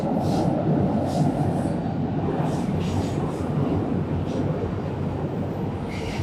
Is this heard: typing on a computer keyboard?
no